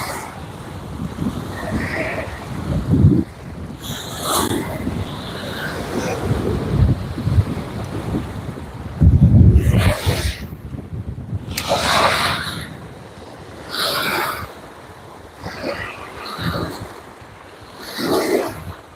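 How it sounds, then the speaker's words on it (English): Strong gusting wind buffets the microphone on a lake shore during a fishing outing, loud rumbling blasts rising and falling in waves with brief lulls between, no speech. "Come on, wind, just go away."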